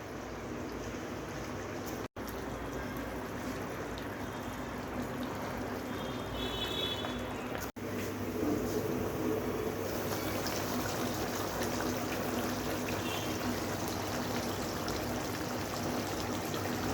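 Water poured into a simmering fish curry on a home stove gives a soft, steady trickling and bubbling hiss, faint and close, with no talk.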